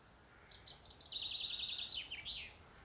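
A chaffinch sings one clear, warbling phrase of quick descending trills, somewhat distant, over a faint woodland hush in Scotland.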